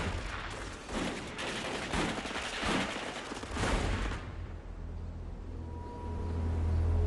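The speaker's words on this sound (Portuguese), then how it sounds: "A polícia do estado foi alertada e abriu fogo." Police opening fire during the Munich putsch, rifles cracking in a dense, ragged volley for about four seconds before giving way to a low rumbling hum.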